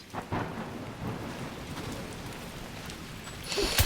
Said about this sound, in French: Bienvenue dans la tempête.